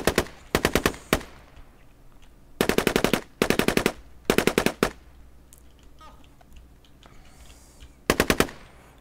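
Automatic gunfire in the Squad video game comes in several rapid bursts of close, sharp shots with short pauses between them. The shooting is loud and dominates the sound, with no talking over it.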